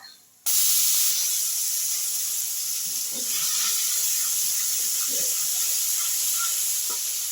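Whole spices and cumin fry in hot oil for an egg masala curry tempering, starting with a sudden burst of loud, steady hissing sizzle that holds evenly, with a few faint clinks underneath.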